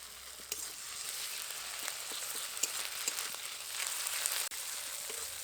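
Ginger-garlic paste sizzles and crackles steadily in hot oil in a pan, close by, with occasional light stirring scrapes.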